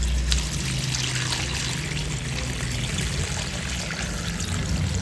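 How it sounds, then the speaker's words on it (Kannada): Water pours steadily onto medicinal maddu soppu leaves in a cooking pot, a continuous close trickling stream with no talk. "ಇದಕ್ಕೆ ಇವಾಗ ನೀರು ಸೇರಿಸ್ಕೊಳ್ಳೋಣ."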